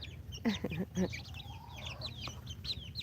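Backyard chickens clucking close by in short bursts, with a soft low rumble underneath and a quiet drawn-out cheep partway through.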